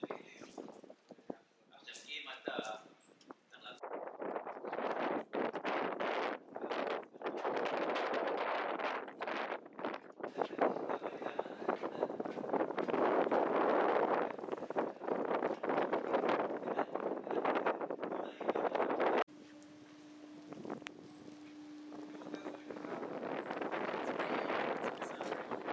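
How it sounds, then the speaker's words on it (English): Strong wind buffets the microphone in loud, continuous gusts at the Masada visitor center by the Dead Sea in Israel, with people talking through it. "we can't take the cable car up because it's too windy"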